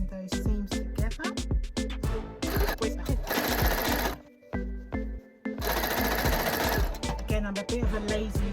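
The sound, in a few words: sewing machine stitching fabric seams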